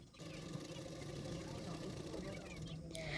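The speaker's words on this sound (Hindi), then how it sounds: "मैंने 1/2 इंच मार्जिन रखते हुए बेल्ट को सिलाई कर रही हूँ" A sewing machine stitches a blouse belt with a half-inch margin. Its steady mechanical hum and rapid stitching run continuously at moderate volume, under a voice.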